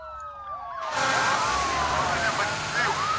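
Wailing fire truck sirens rise and fall in the city-building video game SimCity 5, loud and steady after a quiet start, with sweeping tones layered over dense game noise.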